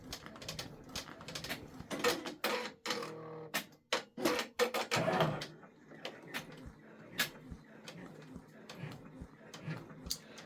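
A Brother embroidery machine stitches an OESD Gingerbread Village freestanding bridge design, giving rapid mechanical clatter and ticking bursts, busier near the start and then settling into quieter, irregular stitching sounds close by.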